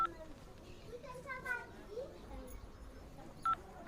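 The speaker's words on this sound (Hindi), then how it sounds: "उसने फोन निकाला और एक कॉल लगा दी।" A few short, isolated phone keypad dialing beeps sound over a busy background of children's voices and play.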